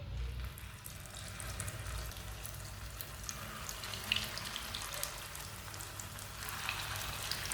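Cauliflower kebabs fry in hot oil with a soft, steady crackling sizzle and scattered pops, faint and close, continuing without speech.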